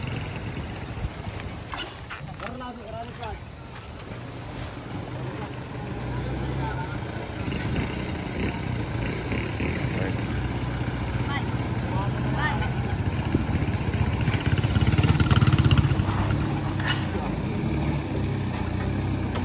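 A jeep fords a flooded river, its engine a steady low rumble with water churning, growing louder toward the middle and end, while people talk nearby.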